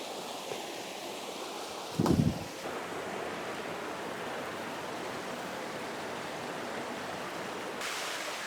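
A waterfall in an autumn setting roars as a steady broadband rush of falling water, constant and fairly loud, with a brief bump of handling noise near the start and no talking.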